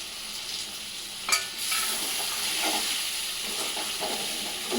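Spiced curry with ground spices and garam masala being stirred slowly in a pan, heard as a continuous sizzling hiss with one sharp scrape and soft, gentle stirring sounds under it.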